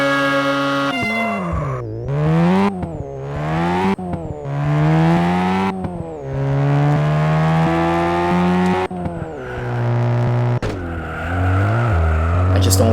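A Honda CRX races in the Juiced video game, its engine loudly revving up and down through repeated gear shifts with rising and falling whine, brief tire noise, up close and continuous.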